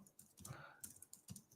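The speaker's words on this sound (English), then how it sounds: "let me just start typing this" Fingers type on a computer keyboard in quick, soft, irregular clicks, a fairly close run of keystrokes heard at low volume with no talking.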